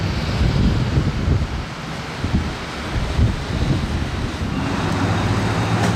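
Gusty wind rumbling against the microphone, a constant low roar that rises and falls over several seconds.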